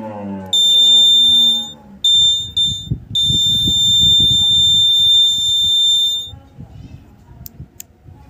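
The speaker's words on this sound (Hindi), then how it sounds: "आपका जो बजर इस प्रकार से बजने लगेगा।" Loud, high-pitched buzzer tone from a homemade satellite dish signal finder meter for DD Free Dish, sounding in long stretches with brief dropouts while someone talks beneath it, then stopping abruptly.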